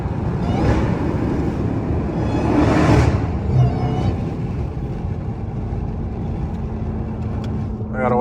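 Dodge Challenger SRT Hellcat engine rumbling loud and close while driving through the city with the window down, a steady low roar with brief swells around downshifts.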